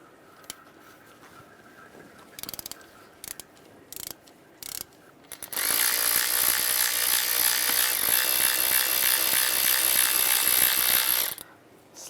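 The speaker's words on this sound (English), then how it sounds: "I'm going to take off this idler pulley using a E12 socket." A hand ratchet with an E12 socket clicks in a few short bursts while loosening the idler pulley on a 2006-2009 Mercedes E350 engine during water pump replacement, then a loud, steady mechanical whir runs for several seconds.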